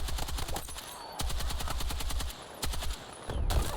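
An M240L machine gun in Battlefield 6 fires long sustained bursts of rapid, loud, close shots, broken by brief pauses between three or four strings of fire.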